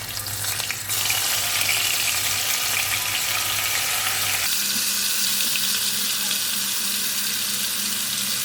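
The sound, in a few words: cheesy chicken packets frying in hot oil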